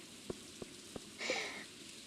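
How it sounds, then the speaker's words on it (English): Soft rain patters in the Stardew Valley farming game during a spring shower, joined by three evenly spaced footsteps and a brief brighter chime-like swish, all faint and quiet. "It's very soothing to hear the rain and also the footsteps"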